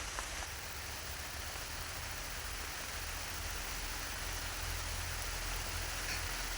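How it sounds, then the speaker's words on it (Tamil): Steady, dense rain hissing without pause, a constant wash of noise heard close by with a low rumble underneath. "நல்லா மழை அடிக்குதுமா"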